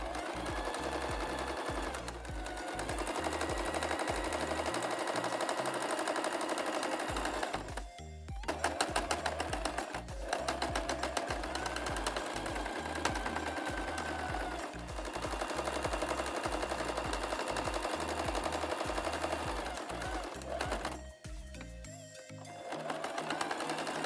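A sewing machine runs steadily along a fabric edge, a close, loud, rapid needle chatter that carries on for long stretches, pausing briefly twice before starting up again.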